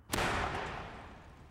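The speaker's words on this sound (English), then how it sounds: "Alford's detonator mimics a direct missile strike on the surface of the bunker" Detonator blast simulating a Tomahawk missile striking the surface of a bunker: one sharp, loud explosive crack followed by a long, rumbling decay, with no voices.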